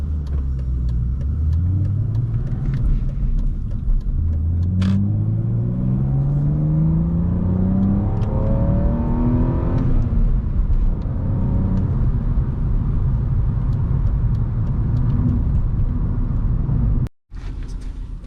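A BMW E46 ZHP accelerates hard on a busy road. The engine note climbs steadily through two long pulls, loud and close, over constant road rumble, with no talking.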